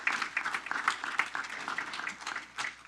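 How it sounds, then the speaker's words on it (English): A round of thank-you applause at a city council regular meeting: scattered hands clapping at a modest distance, uneven and fairly quiet, fading briefly before a last few claps. "Clap of thanks."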